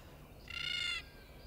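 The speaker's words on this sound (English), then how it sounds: "bird." A single bird call rings out for about half a second, a harsh, clear cry in the middle of a quiet outdoor background.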